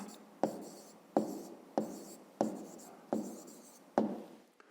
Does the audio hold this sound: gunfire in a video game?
no